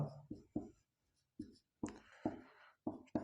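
A teacher writes on a board during a maths lesson, making a series of short, separate, close-up scratching strokes in an irregular rhythm with brief quiet gaps between them.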